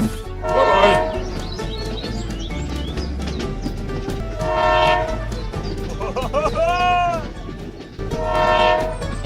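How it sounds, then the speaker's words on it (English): Cartoon-style freight train departing, its horn blowing three times in long blasts with a brief whistle-like call between them, over a rolling rail rumble. "Train departs to deliver goods."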